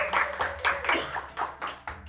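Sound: applause

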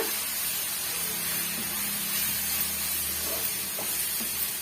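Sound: spice powders sizzling while being sautéed in a pan

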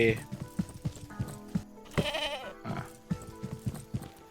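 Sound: goat bleating on farm in Estate Agent Simulator video game

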